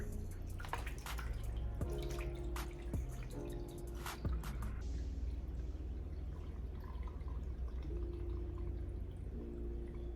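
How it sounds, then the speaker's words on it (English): Water pours and trickles into an Ashland water fountain at low level, with drips, splashes and a few plastic knocks and clunks over about ten seconds, no voices. "I'm gonna go ahead and pour my water."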